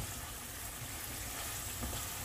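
Ground pork sizzles and fries steadily in a pan, a constant close hiss with faint stirring and no voices.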